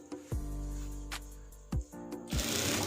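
A sewing machine stitches a sleeve onto a kameez in short bursts, each run of rapid mechanical clatter starting and stopping with brief pauses between, fairly quiet and close.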